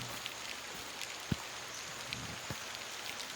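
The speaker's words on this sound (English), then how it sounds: "I hate the rain." Rain falling outside on a wet day, a steady soft patter and hiss with a few isolated drips and taps standing out, faint and continuous with no voices.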